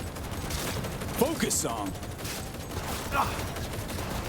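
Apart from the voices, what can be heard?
gunfire in Cyberpunk 2077 video game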